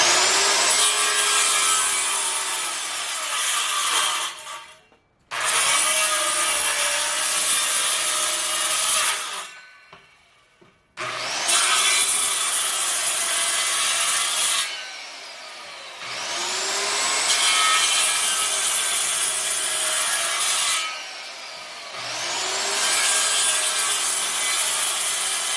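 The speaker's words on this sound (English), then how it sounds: "at random, just cut 1 inch strips and then chisel it out" Long, loud rasping strokes of a saw cutting wood into one-inch strips at a homestead, in four sustained bursts separated by brief pauses, close and steady with no talking.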